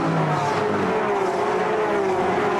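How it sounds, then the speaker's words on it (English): A loud Chevrolet V8 GT race car engine roars steadily throughout at Bathurst during the 2010 Australian GT Championship, a deep, thick drone with a constant rumble and no pauses. "if you think it sounds like a Chev, pretty much because it is"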